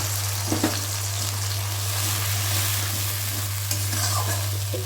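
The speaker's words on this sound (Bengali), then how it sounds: "ফোড়নটা দিয়ে একটু নেড়ে নেব।" Mustard paste and green chili tempering frying in a pan for a pomfret curry, stirred steadily, with continuous sizzling and occasional scraping clinks of the spoon, close and fairly loud with no talk.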